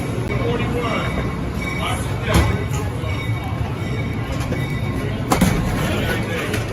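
A steady rumble inside a crowded Amtrak passenger train heading to Lancaster, with continuous rolling noise and a couple of brief clanks, while faint voices murmur underneath.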